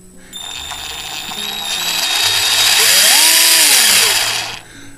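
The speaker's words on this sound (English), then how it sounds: "With a variable speed to make my life so much easier. So drop a pilot hole in there." A new variable-speed power drill bores a pilot hole into wood, its motor whine rising and holding steady for several seconds before winding down, loud and close with no talk.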